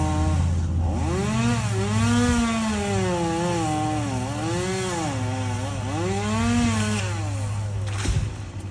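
A chainsaw revs up and down repeatedly, its engine pitch rising and falling as it cuts limbs from a pecan tree, steady and fairly close, ending abruptly.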